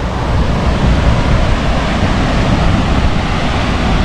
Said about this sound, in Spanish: se puede caminar por detrás de la cascada